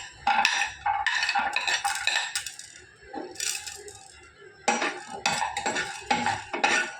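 Garlic added and stirred in a frying pan, with bursts of metallic spoon scraping and clinking against the pan in irregular clusters, close and fairly loud, separated by brief quieter gaps.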